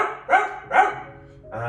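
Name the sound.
voice imitating a little puppy dog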